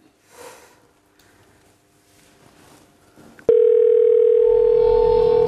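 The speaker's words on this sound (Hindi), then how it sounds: "थैंक गॉड रिंग हो रहा है।" A phone call ringing through on the line: faint handling noises first, then a loud steady electronic tone starts abruptly and holds to the end.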